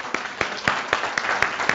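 A studio audience applauds on a talk show, heard as a string of evenly spaced, fairly close handclaps in a quick regular rhythm rather than a thick wash of clapping.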